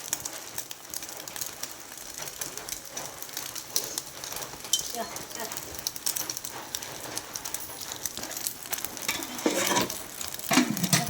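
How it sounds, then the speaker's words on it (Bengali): Hot oil crackles and sizzles as eggs fry close by in a wok, with stirring and spatula clinks, and faint background noise throughout. "তেলটা তেতে যাওয়ার পর এরকম করে ধরে নিয়ে আস্তে করে ফেলে দিলাম"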